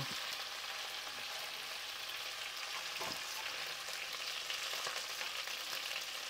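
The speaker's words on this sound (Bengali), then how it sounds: "আমি চিকেনগুলো এরকম পরপর ভেজে নেব" Chicken leg pieces frying in oil, a faint, even hiss of sizzling that holds steady throughout with a single soft knock partway through.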